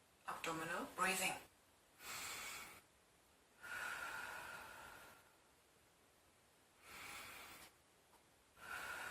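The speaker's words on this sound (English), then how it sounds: "We breathe through our nose in, through the mouth out, up to 10 times the intensive abdominal breathing." Intensive abdominal breathing during a lymphedema self-massage routine, with deep nasal inhales and audible mouth exhales in slow, evenly spaced bursts separated by quiet pauses, close and fairly soft.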